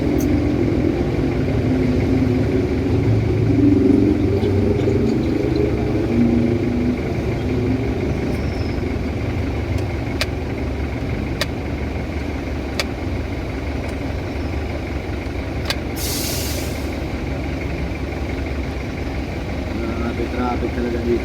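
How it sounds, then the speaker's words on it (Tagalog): Car and motorcycle engines idling and creeping in a Bicutan traffic jam, a steady low rumble close by with occasional sharp clicks, and people chatting over it. "Traffic talaga dito sa Bikutan."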